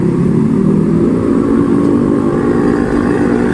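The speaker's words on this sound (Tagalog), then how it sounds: "Ang daming motor" Motorcycle engines drone and rumble steadily as several pass close by in a continuous, loud stream of traffic.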